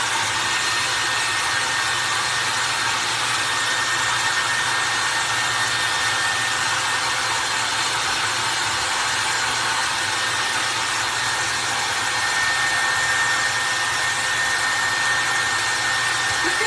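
Hair dryer blowing steadily on a painted cloche, a loud, close, continuous whoosh with a constant whine running throughout, no speech.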